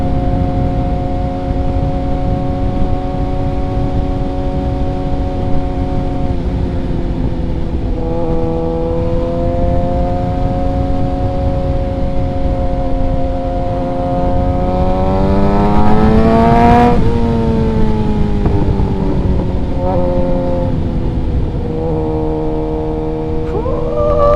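A Suzuki GSX-R 750 sport bike with a freshly flashed ECU and M4 exhaust hums at a loud steady idle, then revs up and down in several rising and falling sweeps, close to the listener, with no talking.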